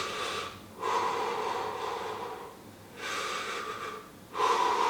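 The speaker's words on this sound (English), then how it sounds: "breathe through the mouth 6 times" Three forceful exhalations through the mouth during a seated breathing exercise, each a loud breathy rush lasting about a second, separated by quiet pauses, close to the microphone with no talking.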